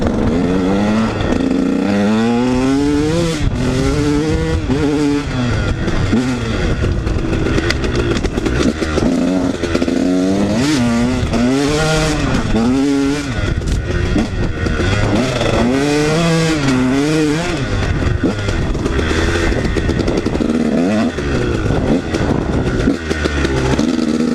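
KTM 150 dirt bike engine revving hard through thick mud, loud and close, with constant rising and falling pitch sweeps as the rider works the throttle, no voices.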